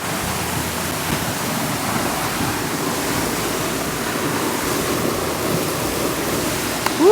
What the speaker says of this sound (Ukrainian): тут дуже шумить водопад